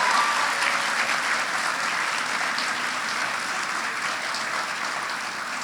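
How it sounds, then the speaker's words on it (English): Applause fills a secondary school graduation ceremony, a steady, dense crowd clapping that holds at an even level and eases slightly toward the end. "you deserve a round of applause for that."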